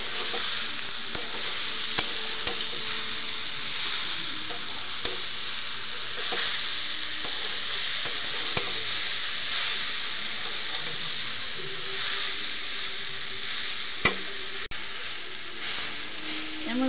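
Jujube (boroi) frying in a pan for pickle with a strong, steady hissing sizzle and occasional scrapes of stirring, close and continuous throughout.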